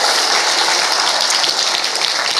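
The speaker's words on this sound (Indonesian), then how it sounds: "tepuk tangan dulu buat semuanya" An audience at a university talk applauds: dense, loud, continuous clapping from many hands, filling the whole stretch without speech.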